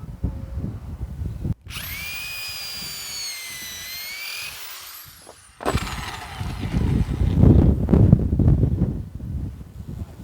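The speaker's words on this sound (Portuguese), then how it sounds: "Furo mesmo no meio do caibo." A power drill bores through a wooden roof rafter, its motor whining steadily with a rising pitch, then a rougher grinding rush of wood being cut, close and loud with some wind noise.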